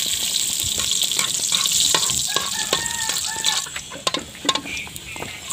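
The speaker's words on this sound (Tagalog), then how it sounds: "At nagpainit na siya ng mantika sa kawali. Ihinasa na po ang bawang." Chopped garlic sizzles loudly in hot cooking oil in a pan, with a steady crackling hiss broken by sharp scrapes and clicks of stirring.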